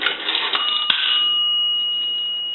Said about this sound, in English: put a nickel in, and that will ring the bell one time